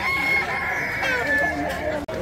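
A rooster crows at a busy live-poultry market in Baghdad, the long sustained call carrying strongly and close over the crowd's murmur. Faint market chatter stays low beneath it.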